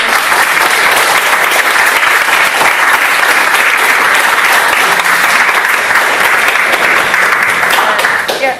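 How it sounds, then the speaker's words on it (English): Loud, dense applause from the audience at a public debate between atheism and theism, sustained evenly throughout and fading slightly at the very end. "I'd just like to ask the audience to give a round of applause for all of the speakers"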